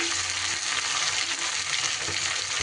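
Scallions and eggplant fry in oil in a pan for a fish curry, giving a loud, dense, continuous sizzle with faint stirring scrapes underneath.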